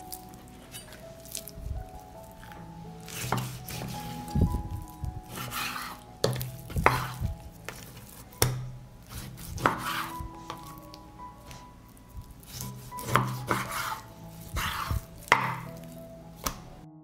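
A knife chops 1.5 kilograms of pork shoulder into smaller pieces on a board, giving a steady run of close, sharp thuds and cuts with soft wet squishes in between.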